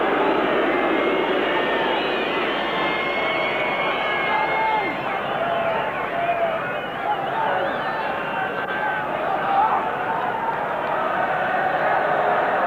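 A 50,000-strong football stadium crowd at a World Cup qualifier between Ireland and Spain keeps up a dense, continuous roar of cheering and chanting throughout, loud and steady with no break.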